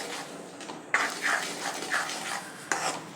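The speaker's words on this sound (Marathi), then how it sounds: "ते याच्यात घालायचं आणि याला एकसारखं हलवत व्यवस्थित मिक्स करून घ्यायचं" Rice flour and semolina are stirred into boiling water, with steady scraping, rubbing strokes of a spoon in a pot, louder swishes recurring about every second, close and alone.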